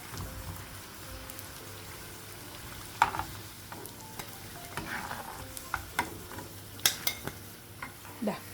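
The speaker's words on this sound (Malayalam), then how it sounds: "തിരിച്ചു മറിച്ചിട്ടിട്ട് എല്ലാ ഭാഗവും ഫ്രൈ ചെയ്തെടുക്കുക" Samosas deep frying in oil give a soft, continuous bubbling sizzle, with scattered clinks and scrapes from a utensil turning them in the pan, close and fairly quiet with no talking.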